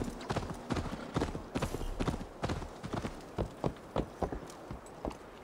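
Horse hooves clip-clopping in Assassin's Creed Valhalla, a quick irregular run of close, distinct hoofbeats on ground that settles into a steadier gait, with faint background ambience.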